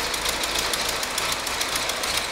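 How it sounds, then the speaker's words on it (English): A 1912 Ford Model T four-cylinder engine runs with a steady, rapid mechanical chuff and knock, close and continuous without any voices. "we are running with a T model 4, 1912"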